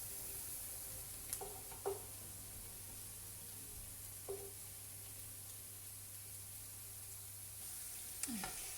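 Onions fry in oil until crispy and brown for chicken mandi, a faint, steady sizzle with a few soft stirring clinks and no talking.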